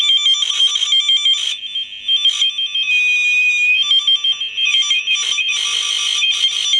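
A steady high electronic test tone from a signal tracer holds throughout, loud and continuous, with brief dips and crackly fluctuations as contact shifts.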